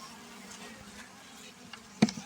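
Agitated honey bees buzz faintly around an opened hive, a thin, wavering drone with one sharp, close burst near the end.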